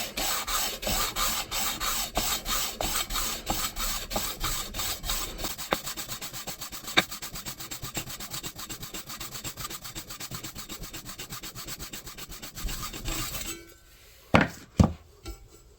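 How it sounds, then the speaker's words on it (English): Metal edge rubbed back and forth with 400 grit sandpaper glued to a flat wood block, fast rhythmic scratchy strokes up close for about thirteen seconds, then a pause and a few sharp knocks. "I'm going to switch to this, which is just a piece of 400 grit sandpaper I glued to a block of wood to keep it flat"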